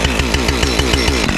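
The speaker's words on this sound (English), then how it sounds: "So it's important you get the chainsaw warm before you start." A chainsaw being warmed up before tree felling in woodland runs close and loud in a steady, rapid, throbbing rhythm, with no pauses or voices.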